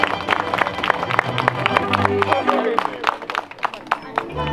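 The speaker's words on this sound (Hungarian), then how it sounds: "Nagy tapsot az ifjú párnak" Wedding guests at a Hungarian village wedding celebration clap for the newlyweds, sharp scattered claps mixed with crowd chatter and voices, the clapping thinning toward the end.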